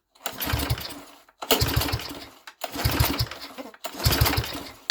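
A mini tractor's small engine, unstarted for 13 years, sputters to life with the choke on in four loud bursts, each running about a second before cutting out, with short silent gaps between attempts.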